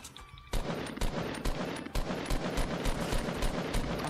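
Rapid gunfire in the Fortnite video game: a quick burst of sharp, loud shots, some close together and some spaced, cracking over a steady game background with no talking.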